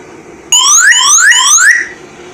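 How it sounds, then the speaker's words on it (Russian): An Orion 125 motorcycle alarm system sounds a loud, close electronic siren, made of repeated upward-sweeping whoops lasting a little over a second before it cuts off. "Как бы сигналка."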